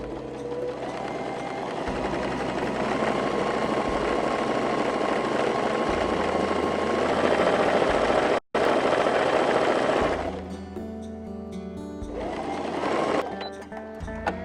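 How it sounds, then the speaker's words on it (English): A sewing machine stitching quilt strips with a quarter-inch seam runs loud and close as a steady whirring hum for several seconds, stops briefly, then restarts in shorter bursts. "You will take your strips and line them up edge to edge, and we'll sew our 1/4 inch."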